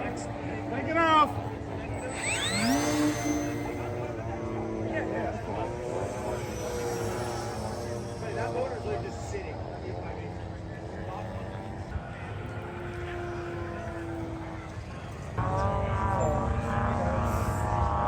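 An electric 2.5 meter RC glider flies at an outdoor field with a steady motor and propeller hum and a few passing whines, while people talk nearby and a broadband rumble swells near the end.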